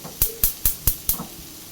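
Chicken fried rice ingredients sautéing in a pan over a high flame, with five sharp, evenly spaced bursts of sizzle and clatter rising above a steady low frying hiss, close and fairly loud with no talk.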